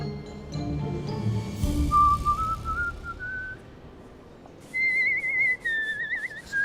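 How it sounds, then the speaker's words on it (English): A person whistles a wavering, bird-like melody, a rising run of notes followed by a pause and then sustained trilling tones. "his whistling"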